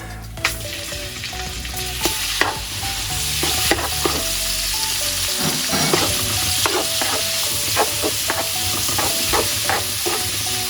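Lean pork tenderloin sizzles loudly in a hot pan, a constant close frying crackle with repeated scraping and stirring knocks from a utensil against the pan.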